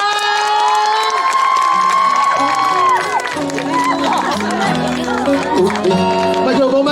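Concert crowd at an outdoor music festival in Qijin, Kaohsiung cheering and applauding loudly and continuously, with shouts and whoops over music.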